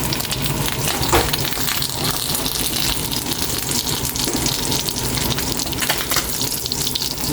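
Tambakol fish sizzle as they fry in hot oil, a loud continuous crackling hiss that holds steady from start to finish.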